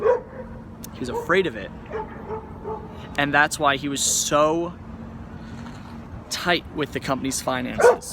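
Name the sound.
dogs barking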